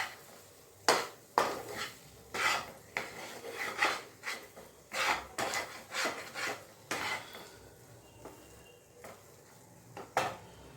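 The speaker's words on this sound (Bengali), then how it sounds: "একটু নাড়াচাড়া করে দিচ্ছি, গ্যাসটা অফ করে কিন্তু আমি নাড়াচাড়াটা করছি" A spoon stirring and scraping roasted spice powder in a pan with the gas turned off for an amla digestive-candy recipe, a steady run of close, dry scrapes and clinks with brief pauses.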